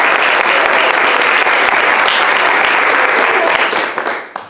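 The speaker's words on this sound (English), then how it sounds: "Give them a round of applause." Loud, dense applause from a large crowd at a staff meeting, sustained throughout and fading slightly at the end.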